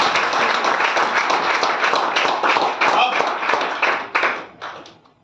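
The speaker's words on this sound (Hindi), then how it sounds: "तालियां हो सकती है क्या इसके लिए?" Audience clapping fills a Hisar meeting hall for several seconds as a steady dense patter, then thins into a few scattered claps before fading out.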